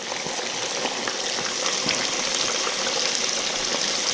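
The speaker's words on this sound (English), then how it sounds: "And we got them frying." Small bream and crappie fillets fry in hot oil, a loud, steady, close crackling sizzle with bright popping spatters and no voices.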